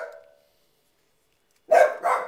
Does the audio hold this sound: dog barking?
yes